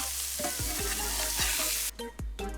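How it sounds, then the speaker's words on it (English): Burgers sizzle in an extra-hot pan, a close crackling fry with several low thuds and scrapes as the patties are shifted, the sizzle briefly dropping near the end. "Make sure that your pan is extra hot so that you get a nice crispy outside on those burgers"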